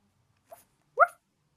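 A dog being taken to the park lets out a brief soft yelp followed by a single short bark, close by in an otherwise quiet setting.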